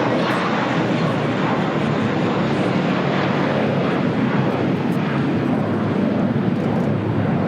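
An ITA Airways airliner thunders down runway 24 right at LAX on its takeoff roll, a loud, continuous engine roar with a rushing, broadband texture throughout and no talking.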